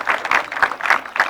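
An audience at a motivational talk applauding in bursts of clapping that rise and fall in a quick, roughly rhythmic pattern, fairly close and loud, with no speech over it.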